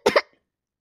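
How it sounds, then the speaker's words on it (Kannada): A single short cough, two quick close bursts right at the start, then silence, in a cartoon comedy setting. "ಕೆಮ್ಮು"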